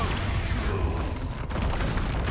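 Expulso blasting spell from Hogwarts Legacy going off as a deep, rumbling boom with a roaring burst of debris, loud and sustained, then trailing into a crackling tail.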